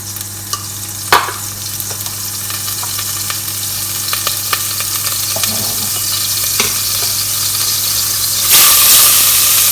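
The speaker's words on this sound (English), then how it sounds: "That's on way too high, you can tell that butter's melted ridiculously fast." Butter melting in a very hot pan for a béchamel sauce, a loud, continuous close sizzle and frying hiss with occasional stirring scrapes and a sharp clatter near the end, no voices.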